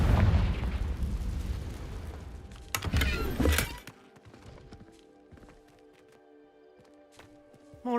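The Confringo fire spell explodes in the Hogwarts Legacy video game, a loud blast with crackling debris that rumbles for a few seconds, then cuts off to quiet game ambience with faint scattered ticks.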